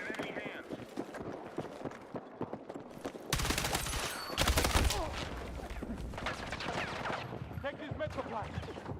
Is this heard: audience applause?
no